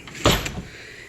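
A single short sliding thud of a kitchen drawer pushed shut, followed by a faint rattle and quiet.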